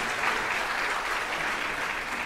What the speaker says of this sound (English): A round of applause for that call.